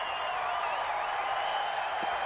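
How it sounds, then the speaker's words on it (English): A stadium crowd in the Madden 20 football game keeps up a steady, dense roar and murmur at moderate loudness, unbroken and without distinct claps. "The crowd's not doing that O-line any favors."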